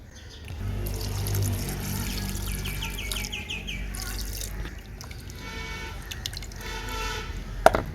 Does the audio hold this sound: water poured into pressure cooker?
yes